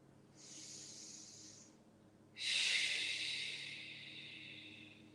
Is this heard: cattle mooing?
no